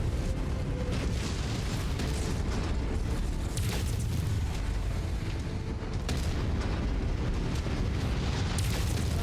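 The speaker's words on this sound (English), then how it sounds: "Why is everything that I'm shooting exploding? Stop exploding, you cowards!" Dense, continuous explosions and heavy weapon blasts from mech combat in Mechwarrior 5: Mercenaries, a loud unbroken rumble with sharper bursts layered on top and no speech.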